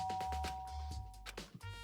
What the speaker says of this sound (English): Press the doorbell.